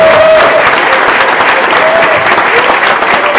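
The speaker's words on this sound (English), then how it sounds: "Round of applause." Loud, sustained applause from an audience at the close of a Mattel She-Ra toy panel at Power-Con 2016, dense clapping filling the room throughout with a bit of crowd noise.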